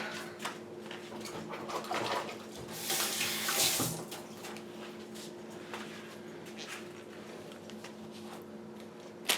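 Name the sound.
washing hands under running tap water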